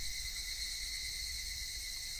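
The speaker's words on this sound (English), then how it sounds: "Only the cry of the cicadas remained, annoyingly loud" Cicadas chirping in the video game Higurashi When They Cry, a dense, unbroken high-pitched insect drone that stays loud and even throughout, with no voices.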